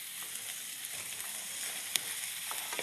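Stuffed squash filling with apple sizzles and fries in a pan while being stirred. A steady bright crackle runs throughout with occasional sharper pops, alone and without voices.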